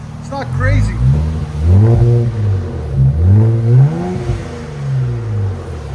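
A 2024 Nissan Z twin-turbo V6 fitted with an AWE cat-back exhaust revs repeatedly in smooth rising and falling sweeps, loud and near, with no harsh crackle between blips.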